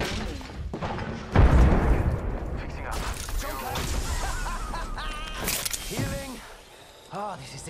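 Grenade blast and bursts of gunfire in the video game Apex Legends, a heavy boom followed by scattered shots and crashes under excited voices talking throughout.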